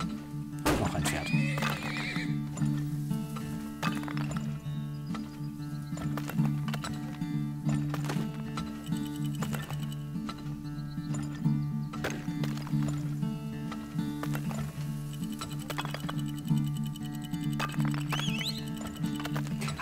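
Horses neighing and whinnying with clip-clopping hooves in the video game Turmoil, repeated calls over a steady looping game soundtrack throughout.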